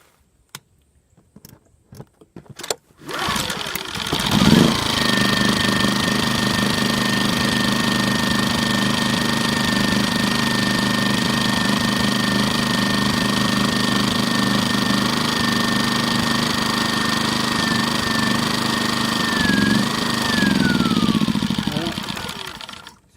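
A Champion generator engine cranks with a few short pulls, catches and runs at a steady loud drone for about twenty seconds, its pitch dipping near the end.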